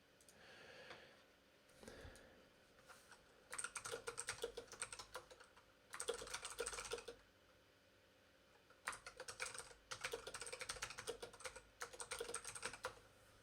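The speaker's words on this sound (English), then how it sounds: "I'm typing text" Bursts of rapid typing on a computer keyboard during a C# coding session, quick clattering keystrokes in several runs separated by short quiet pauses, close and fairly soft.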